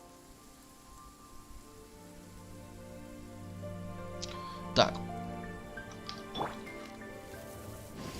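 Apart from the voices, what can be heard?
rain falling in video game Genshin Impact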